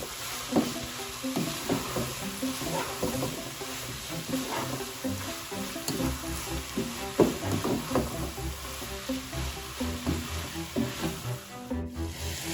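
Chicken samosa filling with chili sauce is stirred in a frying pan, a continuous sizzle broken by repeated scraping and knocking of the spoon against the pan, close and fairly loud, with no talking.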